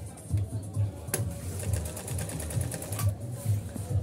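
A Pfaff Hobby Matic 808 sewing machine stitches a buttonhole, its steady rapid needle rhythm running close and continuous under a quiet voice.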